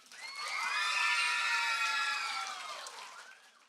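Children at a school graduation cheering and shouting in a rising, then fading chorus of high voices, loud and sustained, with little clapping standing out.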